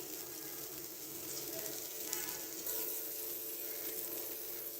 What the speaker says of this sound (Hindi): हमने यहाँ पे फ्लेम ऑन कर ली है, तो हम साथ यहाँ पे बटर लेंगे, इसे मेल्ट करेंगे